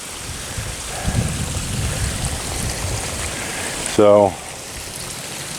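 Fresh water runs steadily into a shrimp pond, a broad rushing wash with splashy bursts, while someone briefly says a word over the flow.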